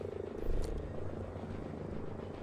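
A helicopter in a first-person shooter game, with a steady low rotor thumping heard close and fairly loud for a couple of seconds with no talk over it.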